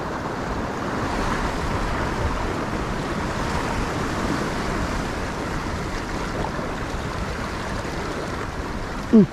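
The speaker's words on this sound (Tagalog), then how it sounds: "Laki alon." Big ocean waves surging around Comas Island off Sual, Pangasinan, a steady broadband wash of surf with wind buffeting the microphone, continuous and fairly loud throughout with no voices.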